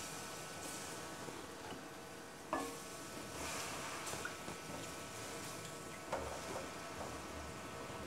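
Ginger garlic paste sautés in hot oil in a pan for beef paya, giving a soft continuous sizzle with occasional spoon scrapes and taps, close and fairly quiet with no speech.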